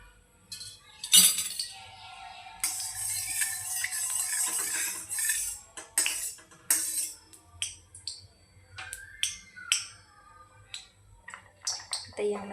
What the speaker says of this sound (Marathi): गॅसवर कढई ठेवून आपण त्यात म्हणजे थोडंसं तेल टाकणार आहोत